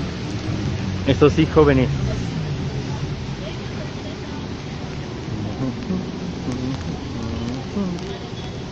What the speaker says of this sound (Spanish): Bueno, está lloviendo y sí.